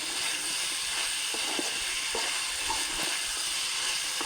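Steady sizzling and frying of Pallipalayam chicken fry in a pan as coconut is stirred in, a continuous hiss with faint scraping stir noises, close and even throughout.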